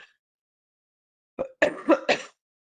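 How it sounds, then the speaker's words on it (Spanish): After a pause, a person coughs four times in quick succession, close and fairly loud, in an otherwise silent room. "Discúlpenme, tengo una tos."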